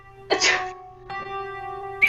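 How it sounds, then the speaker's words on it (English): A single short sneeze bursts out, followed by a pause and then a faint high-pitched tone, with another sharp burst at the end. "Slow motion on that sneeze."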